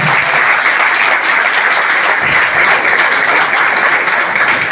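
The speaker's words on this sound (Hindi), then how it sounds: "और एक बार पूरे गांव पतला के लिए जोरदार तालियां।" Loud, sustained applause from a village gathering in Patla, a steady dense roar of many hands clapping together without a break.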